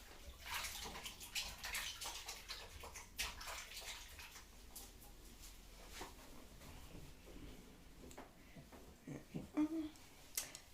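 Hands being washed under a running tap in a home kitchen after cracking eggs for blueberry muffins, a steady splashing water flow with sloshing and brief louder bursts, faint voice in the background.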